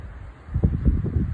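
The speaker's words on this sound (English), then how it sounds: "Unexpected wind gust." A sudden strong wind gust buffets the microphone outdoors on a cold day, rising after a quiet start into a loud, low, fluttering rumble that pulses for about a second.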